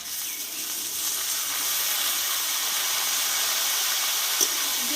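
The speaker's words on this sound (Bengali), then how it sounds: "আর এই গাঁধার পাতার মশলার পেস্টটা আমি এবার ঢেলে দেবো" A spice paste of gandhal leaves hits a hot pan and sizzles, a bright, continuous hiss that holds steady and close with no talk over it.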